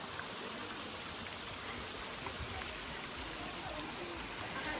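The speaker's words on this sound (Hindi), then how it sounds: "बहुत ज्यादा ये पानी कितने अच्छे से आ रहा है।" Water rushing steadily over a waterfall near Patna makes a dense, even broadband roar that carries unbroken through the whole stretch, with no voices over it.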